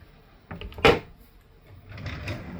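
A drawer in a Carnival Miracle cruise ship cabin slides open with a short wooden scrape and knock, followed by faint rustling and handling noise, close by in a quiet room.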